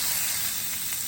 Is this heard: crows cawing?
no